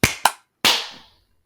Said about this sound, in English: It's a real hard clap for you.